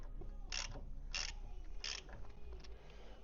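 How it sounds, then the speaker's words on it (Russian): A ratchet tightens subframe bolts on an Audi A6 C7, giving four short, crisp ratcheting bursts at a steady pace over a low workshop hum. "зажмем вот эти основные болты и потом вот этот маленький"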